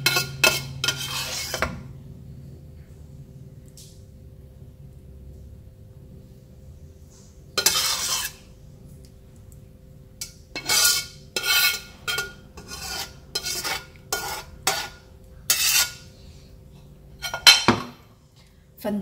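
A spoon scrapes and clinks against a pan while stir-fried balut in tamarind sauce is scooped onto a deep plate; after quiet, bursts of metallic scraping and taps come in an irregular run, close up.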